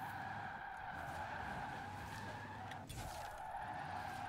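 Tires squeal steadily as a Raesr Tachyon Speed slides through fast corners in Forza Horizon 4, a sustained skid tone over engine noise with a brief dip near the end, fairly quiet and without voices.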